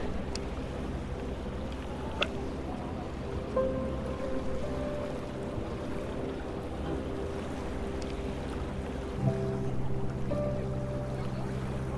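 A ferry crosses Hallstatt lake with a steady low engine drone and rumble throughout, soft wind and water wash over it, and a couple of faint knocks, with no voices.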